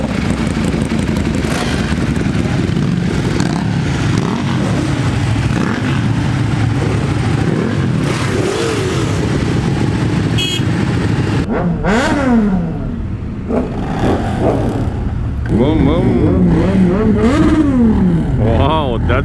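A loud Ducati Panigale V4 motorcycle revs and accelerates among a group of riders on a Sunday ride, engine tones sweeping up and down repeatedly, with wind noise and people talking over the roar.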